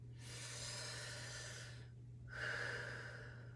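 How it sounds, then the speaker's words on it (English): A group breathes together during a fascia exercise class, with one long audible inhale and then a second breath after a short pause, soft airy rushes over a steady low hum. "So let's breathe 6 times together now that we've been holding this for a moment."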